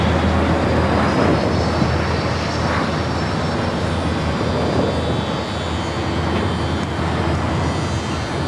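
A United Boeing 737 MAX 9 jet roars loud and steady through its takeoff run on the north side at LAX, a broad continuous engine rumble with no pauses.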